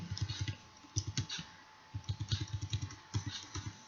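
Computer keys clack in quick clusters of soft clicks while keyboard shortcuts are pressed during spreadsheet work, close and quiet with short pauses between bursts and no speech.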